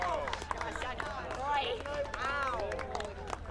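A crowd gathered outdoors for the April 8, 2024 total solar eclipse cheers and calls out steadily as totality ends and the diamond ring appears, with many overlapping voices and some clapping at moderate distance.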